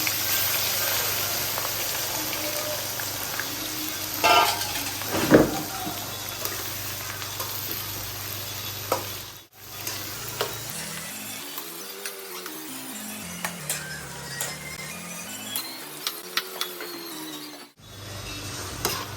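Onions sizzling in a karahi for dhaba-style desi mutton curry with red chilli, a steady frying hiss with a few sharper clatters and stirring scrapes, close and fairly loud, broken by brief cuts and a low rumble in the second half.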